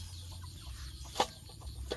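Chickens cluck softly nearby over a low background hum, with a couple of brief sharper calls.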